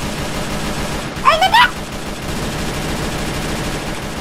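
A short, rapid burst of AK rifle fire from the Minecraft video game stands out briefly against a steady background of game noise.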